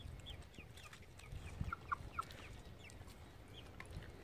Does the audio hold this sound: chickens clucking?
yes